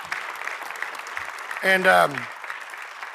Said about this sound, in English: I want to give Bernie a round of applause.